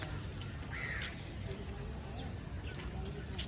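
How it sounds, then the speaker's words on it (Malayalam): Several crows caw at a fort in Delhi, heard at a moderate distance over a low outdoor rumble, with voices in the background. "ഫുൾ കിളികളാണ് ഇവിടെ."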